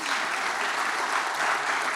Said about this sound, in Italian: un applauso di augurio, di congratulazioni